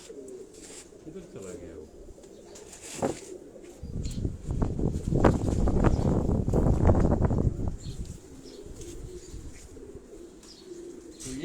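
Pigeons in a breeding cage, soft cooing and rustling with a busier flurry of wing flaps and fluttering in the middle, heard close alongside someone talking.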